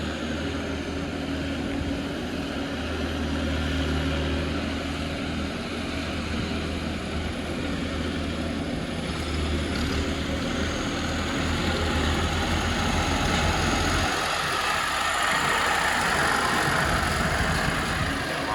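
A heavy tractor engine runs continuously during sugarcane loading in Jamaica, a steady drone, loud and close, with a rumbling low end that barely changes over the whole stretch.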